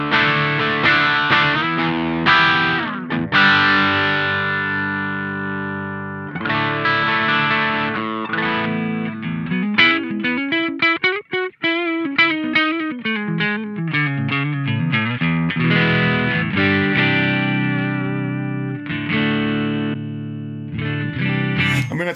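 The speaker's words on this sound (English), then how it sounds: "Oh, I think I'm overdriving things. It gets very loud very quickly." A Two Notes ReVolt guitar amp pushed into overdrive gives a loud, heavily distorted electric guitar tone, played alone as sustained chords and bending notes for about twenty seconds.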